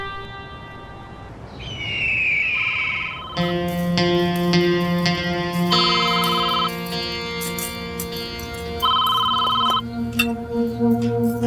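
A phone rings with a warbling electronic tone that shifts through several pitches, steady and prominent, with an echoey, slightly distorted quality.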